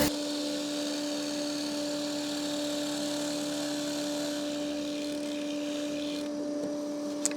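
A drill press spins a bit at high speed, routing through wood with a steady whining tone and constant rushing grind that holds even throughout.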